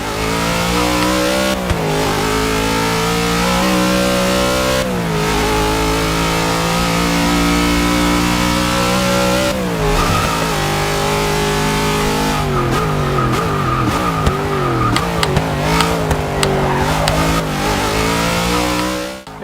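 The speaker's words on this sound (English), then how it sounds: "It has a classic V8 sound." Ford Falcon GT Interceptor V8 engine in Forza 6 revving hard through the gears, loud and close, with rising pitch sweeps broken by shift dips and a burst of rapid revving near the end.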